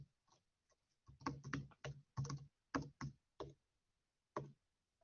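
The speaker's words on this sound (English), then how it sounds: "Sorry, I'm not very good at typing today for some reason." Someone types on a computer keyboard, producing quiet, close, irregular clusters of keystroke clicks separated by short pauses.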